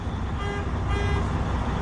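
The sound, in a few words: truck electric horn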